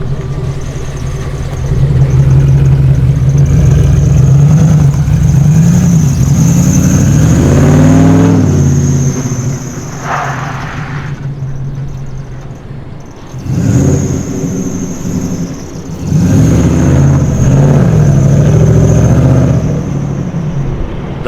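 A Peterbilt 389 truck's engine starts by push button and settles into a loud, deep rumble, dropping out briefly before firing up again and running strongly.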